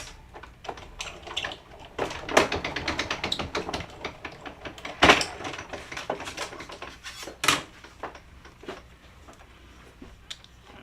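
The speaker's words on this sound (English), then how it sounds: "I'm going to die cut behind me" A die cutting machine presses through paper card for a slimline shaker card, producing a rapid run of clicks and clacks with several louder thumps, close and irregular throughout.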